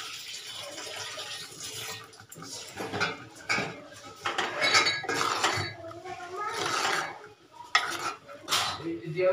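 Yogurt going into a pan of green chilies and spices for a Kashmiri egg curry, with clinking and scraping of a spoon against the pan in an uneven rhythm while someone talks over it.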